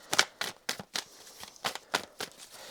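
Tarot cards are shuffled in quick riffling bursts, about ten close, crisp flutters in an uneven rhythm, with no talking.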